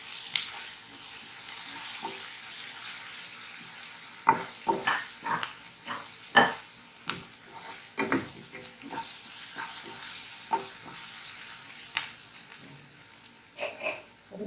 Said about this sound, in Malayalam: മല്ലിപ്പൊടി, മഞ്ഞൾപ്പൊടി ചേർത്ത് കൊടുത്ത് നന്നായി ഒന്നും കൂടെ വഴറ്റിയെടുക്കാം.